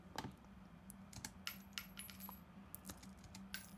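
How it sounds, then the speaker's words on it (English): Bullet casings fall in a shooter video game sound effect, many small light metallic tinkles and clinks scattered irregularly over a faint steady hum. "I wanted to have a sound of casings falling down."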